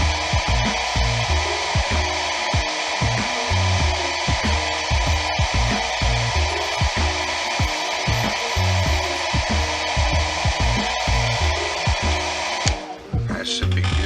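A heat gun or hair dryer blows steadily on action figure arms during GI Joe figure assembly, a loud continuous whooshing roar that holds for about thirteen seconds before cutting off near the end.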